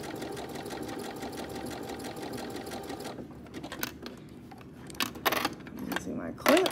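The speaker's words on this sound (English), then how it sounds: "we're sewing on the edge of our fabric" A home sewing machine runs steadily for about three seconds, stitching along the edge of fabric, then stops, followed by light handling clicks and rustles of the material and clips.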